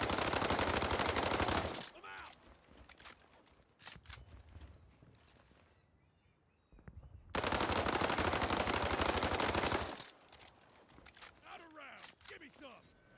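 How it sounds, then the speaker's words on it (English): A stock M4 rifle with no attachments fires in the video game World War 3. Two long, loud bursts of full-auto fire are heard, each followed by quieter mechanical handling sounds and pauses. "Here's a stock M4, no attachments, no recoil reduction,"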